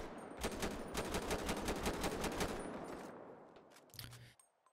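Rapid custom rifle gunfire in GTA 5 on a FiveM server, a fast run of loud, evenly spaced shots lasting about two and a half seconds, then a trailing echo and one brief low thump.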